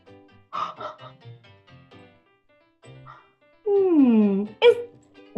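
A dog barks and yips a few times at close range, including a drawn-out whining howl near the end, with short bits of quiet talk beforehand.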